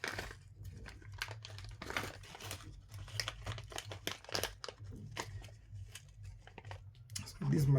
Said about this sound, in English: just apply a gentle amount of pressure, and this plastic bag will just give way